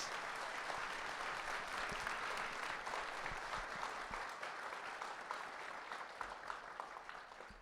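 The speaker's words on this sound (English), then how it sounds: "So please give a big round applause." Steady, sustained audience applause filling a hall at a Nagoya lecture event with a Nobel chemistry laureate, dense clapping continuing evenly throughout without speech.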